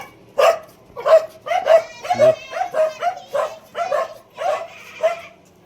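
A dog barks repeatedly at close range, about ten sharp barks and yips in an uneven rhythm, with a brief whimpering note partway through.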